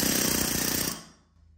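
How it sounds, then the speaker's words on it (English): A pneumatic air hammer drives the rear axle bearing of a Club Car golf cart into place, a loud rapid rattling burst of about a second that cuts off, leaving a faint tapping tail. "I'm gonna take the air hammer and I'm going to push it in from the axle side here."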